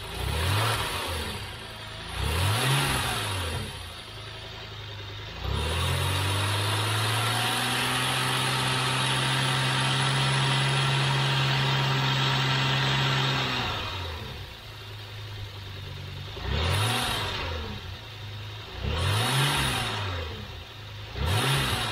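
A Citroën XM V6 engine sits at a steady idle between short bursts of revving, with two quick throttle blips at the start, a long held rise in the middle, then more blips near the end.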